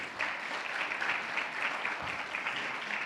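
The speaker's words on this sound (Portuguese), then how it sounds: "Dá uma salva de palmas pela vida dele." At a church leadership training, a congregation gives a round of applause for a man called up to the front, a continuous, even wash of clapping that runs the full length, fairly soft and with no voices.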